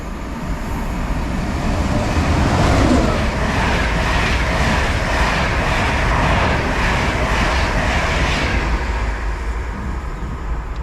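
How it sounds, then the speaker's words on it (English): LNER Class 91 locomotive on a service to Leeds passing straight through a station on the East Coast Main Line, a loud, sustained roar and rush of wheels and air lasting throughout, near and steady with rhythmic clatter. "passing through now is an LNER service to Leeds, form number 91"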